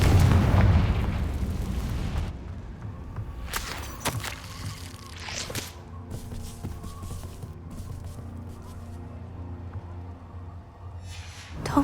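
A Confringo blasting spell explodes in the Hogwarts Legacy video game: a loud, close booming burst opens, followed by rumbling debris and several sharper cracks and smaller blasts that fade out, with a fresh burst at the end.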